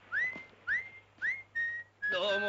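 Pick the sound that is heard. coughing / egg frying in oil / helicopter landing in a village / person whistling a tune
person whistling a tune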